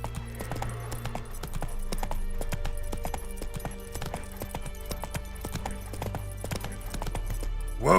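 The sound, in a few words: hooves of Geralt's horse Roach, from video game The Witcher 3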